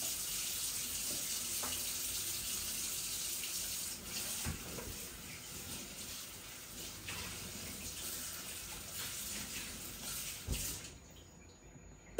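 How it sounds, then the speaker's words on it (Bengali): Pabda fish curry with mustard paste bubbles steadily in a pot as it comes to a boil, a close, even hiss and gurgle holding for several seconds and dropping away near the end. "এই দেখুন এখন আস্তে আস্তে বলক আসছে, বলক এসেই গেছে"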